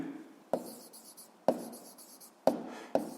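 Chalk or pen writing notes during a physics lesson, four sharp taps each followed by brief scratchy strokes, close and fairly quiet in a still room, no talking.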